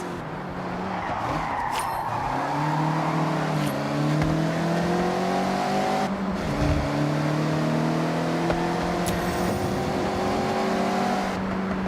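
Mazda MX-5 engine in the racing video game Forza Horizon, revving steadily and holding a loud, continuous drone as it slides sideways through corners, with brief tire squeal and rising gear sweeps and no talking.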